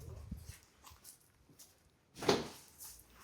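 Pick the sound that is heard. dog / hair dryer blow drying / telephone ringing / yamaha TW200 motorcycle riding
dog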